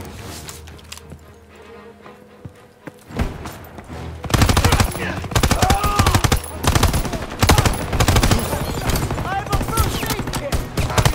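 Rapid bursts of World War II gunfire in the video game Call of Duty WWII, quieter at first, then dense overlapping machine-gun and rifle volleys that grow loud and nearly continuous, close and sharp.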